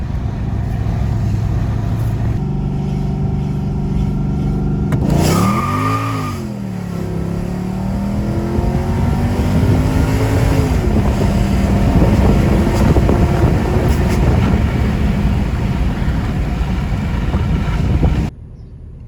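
A tuned Mercedes E55 AMG on drag tires accelerates hard, its engine note climbing through the gears with a shift dip, heavy wind rush over the microphone, and a long, loud pull before cutting off abruptly.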